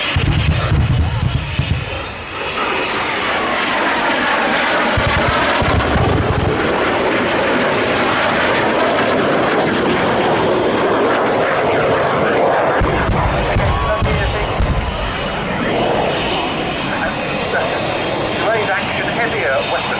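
A military aircraft roars continuously overhead at the RAF Cosford air show while demonstrating a weapon roll, a loud, sustained jet engine drone with low rumbling surges, and a commentator talking over it throughout.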